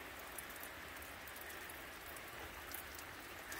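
Rain falling steadily over a garden, a dense, even hiss with scattered drop patters, quiet and continuous with no voices.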